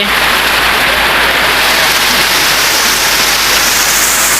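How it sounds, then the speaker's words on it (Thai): Dense, steady rush of heavy storm rain pouring down on Thai farm fields, a loud continuous hiss with no let-up throughout. "โอ้ฝนตกมาเย็นเย็นเย็นชุ่มช่ำ"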